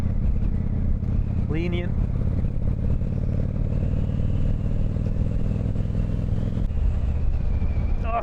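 A Honda VT1100 Shadow Ace motorcycle runs with a deep, throbbing V-twin engine rumble, loud and close throughout, while someone talks over it.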